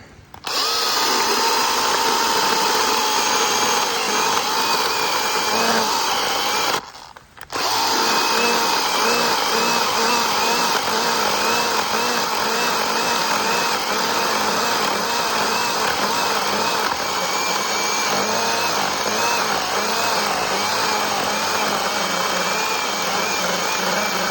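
Makita DUC150 cordless battery chainsaw cutting through a thick log over 20 cm across, a loud continuous high whine running nearly the whole time with one brief drop midway before cutting resumes.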